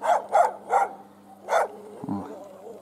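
Four short, yappy barks from a young dog, spaced a fraction of a second apart, followed by a low thump and quiet background.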